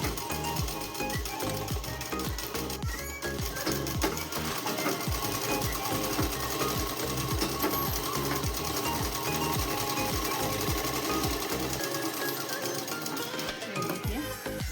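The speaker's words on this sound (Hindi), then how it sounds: "देखिए अब हमने इसको इधर से सिलाई लगा ली है।" A sewing machine stitching a simple dress runs continuously and close, its fast, even mechanical chatter steady and loud throughout with barely any pause.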